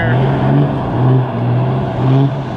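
Tuned Cummins diesel truck engine straining under load in a tug of war, a loud, steady low drone with swelling and easing pulses throughout, mixed with faint voices.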